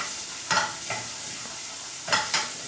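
Shallots stir-fried in extra virgin olive oil in a hot pan, with a few brief bursts of stirring and sizzling at close range, separated by quieter stretches of low hiss.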